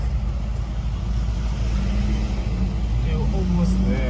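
Steady road traffic rumbles around a 2025 Porsche Cayenne Turbo GT driving in Dubai, a constant low drone of engines and tyres with a faint passing vehicle near the end.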